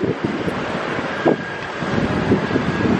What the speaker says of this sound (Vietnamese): Đây gió hơi to, hy vọng là các bạn nghe được tiếng gió